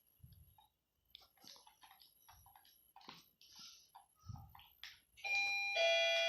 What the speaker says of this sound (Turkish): kapı zili çaldı